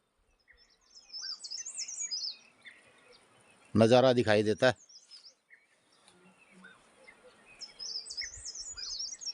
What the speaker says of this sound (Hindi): दूर से चिड़ियों की चहचहाट